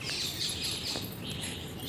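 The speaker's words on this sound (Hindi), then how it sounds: "इतने पेड़ हैं कि अभी तक पक्षी चहचहा रहे हैं।" Birds chirp in trees on an afternoon, thin high tweets scattered over a steady background hiss, faint and somewhat distant with no talking.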